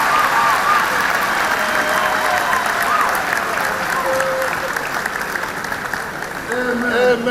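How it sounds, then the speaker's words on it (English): Sustained crowd applause for a man declared blessed and healed at a church deliverance service, steady and full throughout, with a few voices and cheers mixed in. "Clap for him"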